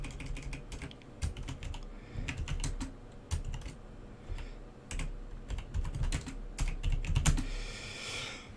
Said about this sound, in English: He's typing in fantasy name generator right now.